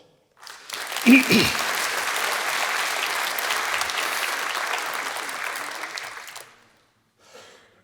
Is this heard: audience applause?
yes